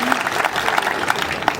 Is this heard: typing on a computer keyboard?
no